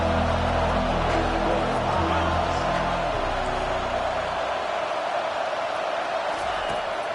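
A stadium crowd roars behind the defense on a big third down at a football game, a loud, sustained wash of cheering and noise with some low rumble that thins slightly toward the end.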